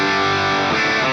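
A sustained, heavily distorted electric guitar chord played through an amp simulator with a cabinet rings out, thick and saturated with a shifting, gritty tone.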